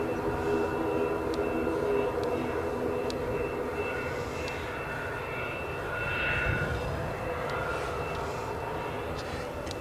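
A KLM Boeing 737-800 jet departs for Amsterdam Schiphol from Edinburgh airport, its engines a steady broadband roar that holds loud and continuous for about ten seconds, swelling slightly near the middle.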